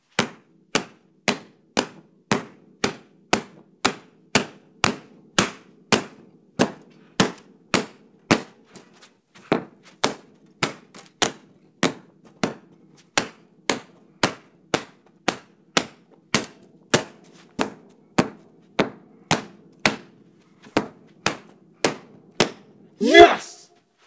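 A Shark Tale DVD is struck again and again in sharp, loud, evenly spaced cracks, about forty blows at a steady rhythm with a brief pause midway and a final louder hit.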